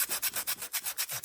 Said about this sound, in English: I'm going to sand it down a little bit more so you can see the white better